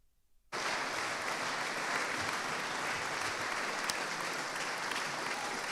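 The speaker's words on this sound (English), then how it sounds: "please join me in getting to your feet in a final round of applause" Sustained applause from an awards ceremony audience at a university research and innovation awards, starting abruptly after near silence and continuing as steady, dense clapping throughout.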